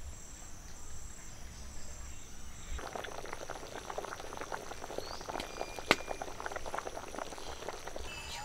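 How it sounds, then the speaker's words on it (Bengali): Fish curry gravy with river foli fish and taro bubbles in a pot, a steady dense crackle of boiling that grows busier partway through, with a few clinks. "ঝোলটা ফুটে গেছে"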